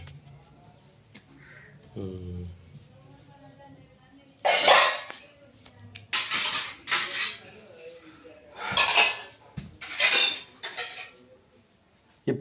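Plates, lids and metal vessels handled in a village kitchen, several separate bursts of clattering and clinking metal at close range, with a brief voice early on and quiet gaps between.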